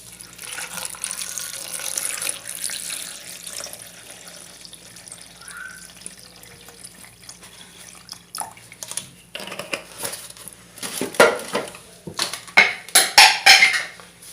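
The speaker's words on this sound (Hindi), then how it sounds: "2 गिलास पानी ऐड करेंगे।" Quiet clinks and faint trickles give way to water splashing and pouring into a blender jug in uneven bursts toward the end.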